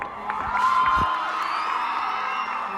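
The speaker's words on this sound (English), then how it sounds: "Tons of applause and laughter" A live show crowd whoops and cheers together, a loud sustained roar of voices with shouts rising over the top, filling the whole moment.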